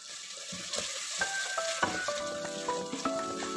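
Yogurt going into sizzling masala for fish karahi, a close crackling fry with sharp pops and spitting bursts that grow busier as it hits the hot oil, no talking.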